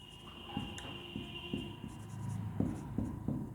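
Chalk or marker writing on a board during a lesson on similar triangles, with steady scratchy strokes and a few sharper taps as letters are formed, close and fairly quiet with no talk.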